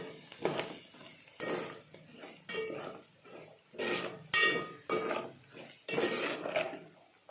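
Cluster bean fry being stirred with salt in a pan, with repeated close scraping and clinking of a spoon against metal in uneven strokes over a soft sizzle.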